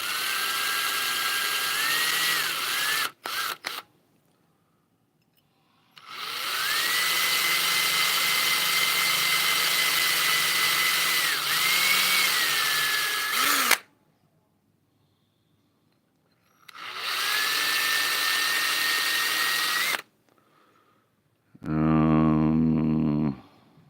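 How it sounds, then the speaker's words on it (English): Power drill fitted with a fresh bit after a dull one, running in three long whining bursts separated by quiet pauses, loud and close, with a short rattling burst at the end. "the other drill bit was just way dull"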